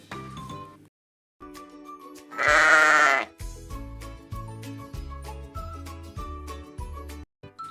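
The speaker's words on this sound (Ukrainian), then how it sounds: "мама вівця, тато баран, дитинча ягня" A sheep bleats loudly once amid a cheerful tune with a steady bouncy rhythm and tinkling notes.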